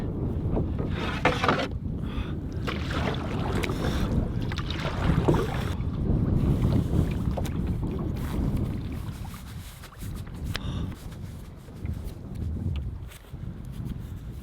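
Wind buffets the microphone while canoeing on a lake in remote Canada, a steady loud rush with gusty surges and faint water sounds, no voices.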